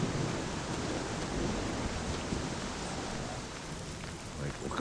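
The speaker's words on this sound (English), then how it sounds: "it would be nice if it wasn't raining in here." Steady rain falls in the farming video game Farmer's Life, an even, hissing wash of drops at moderate loudness throughout, with a voice talking faintly underneath.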